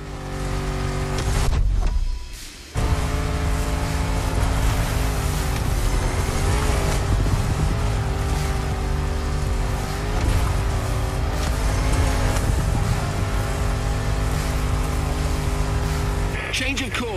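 Land Rover Defender off-road engine, 400 horsepower, in the video game The Crew Motorfest, droning steadily and loudly throughout with a brief dip, tyre noise and a voice talking over it.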